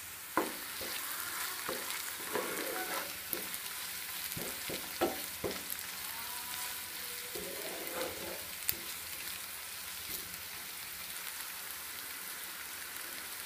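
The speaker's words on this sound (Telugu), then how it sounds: "కొద్దిగా అల్లం వెల్లుల్లి పేస్ట్ యాడ్ చేద్దాం. పచ్చివాసన పోయేంత వరకు బాగా కలుపుకుందాం." Ginger garlic paste frying in a pan for potato curry, a steady sizzle throughout with scattered scraping taps from stirring, close and even in level.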